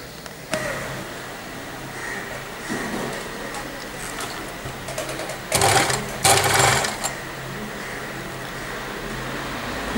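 A sewing machine stitches pleats into a Patiala salwar, running in short bursts with a louder, faster run of stitching near the middle, close by and mostly without talk.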